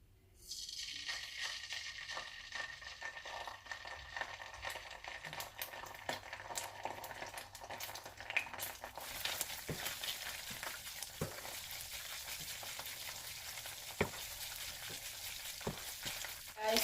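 Tomato sizzling steadily in a hot pan for a salmon sauce, a continuous bright crackle with scattered pops and occasional clinks of a utensil against the pan.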